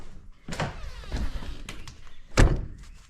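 A trailer door swings shut with a solid thunk near the mic, preceded by a softer knock and a rattle of the panel.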